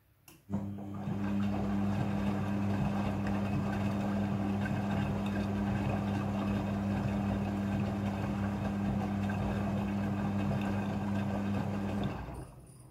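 Midea front-loading washing machine filling with rinse water, a steady, continuous hum with a strong low tone and rushing water, starting abruptly and running evenly for about twelve seconds before stopping.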